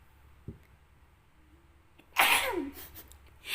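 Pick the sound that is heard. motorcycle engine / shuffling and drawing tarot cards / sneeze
sneeze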